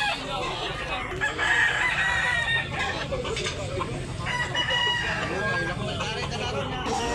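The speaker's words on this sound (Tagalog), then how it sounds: "Napakagandang, napakagwapong manok mga idol." A pumpkin sweater gamefowl rooster with yellow legs crows nearby at a gamefowl sale in Cebu, over steady clucking from other chickens and background chatter, while someone talks throughout.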